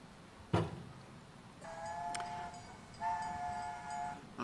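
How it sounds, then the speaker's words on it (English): A train whistle sounds near a laboratory: two sustained, steady tonal blasts, the first about a second long and the second longer, following a sharp knock at the start, heard moderately loud over faint background noise. "that train whistling in our lab every day for a long time"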